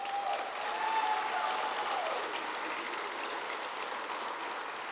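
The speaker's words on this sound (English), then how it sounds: "That's an applause." Steady, even applause from a large keynote audience at a unity summit, sustained for several seconds at moderate level with a brief faint tone near the start and no talking.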